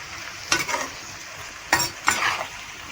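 Food being stirred and fried in a hot pan sizzles steadily, with a few sharp scraping strokes of a spatula against the pan standing out over the hiss.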